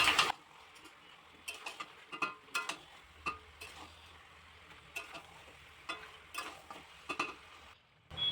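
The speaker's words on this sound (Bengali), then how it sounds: "সব কিছু ভালো করে নেড়ে নেব।" Mutton masala being stirred in a pan over low frying sizzle, with a spatula scraping and tapping in irregular bursts, close and fairly quiet.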